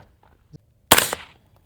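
One sharp, loud AR-15 rifle shot cracks close by, followed by a short decaying echo, after a faint click.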